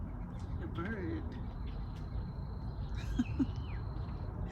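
A bird gives a few thin, whistle-like calls outdoors in the evening, clear but not loud, against faint background hum, with a couple of soft louder notes near the end.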